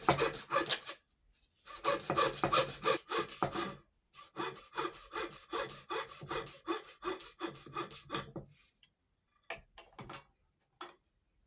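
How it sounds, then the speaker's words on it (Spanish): Fine saw cutting a piece of Boulle-method marquetry, making rapid rhythmic back-and-forth rasping strokes in several bursts separated by short pauses, close and steady, ending with a few isolated taps. "Vamos a cortar la última pieza."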